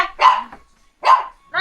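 Two loud, close dog barks about a second apart, each a sharp single woof, with nothing else between them.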